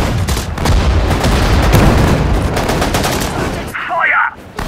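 Dense, loud bursts of rapid gunfire and explosive booms from the WWII strategy game Sudden Strike 4 fill most of the clip, then drop away briefly near the end.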